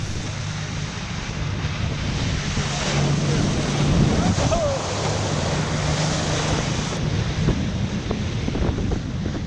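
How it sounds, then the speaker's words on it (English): Tidal race waves surge through a narrow sea strait, the Grey Dogs channel, as a continuous loud rushing wash of water heavily mixed with wind buffeting on the microphone, steady throughout with no voices. "the tide surges through here, creating some amazing waves and formations on the top of the water"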